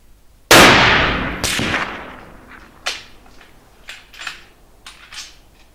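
Two loud, close shots from a Fabarm Iris rifle in .300 Winchester Magnum, about a second apart, each with a long ringing decay, then scattered fainter knocks and clanks.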